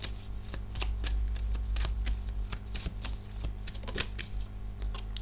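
Playing cards for a tarot-style reading are shuffled close by in a continuous crisp riffle of rapid flicks and light slaps, lasting the whole few seconds with no talking.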